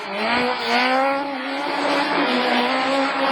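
Rallycross race cars at Lessay, including a Renault Clio in the Super 1600 class, roar loudly and continuously with high revving engine tones and some tire scrubbing, close and steady throughout.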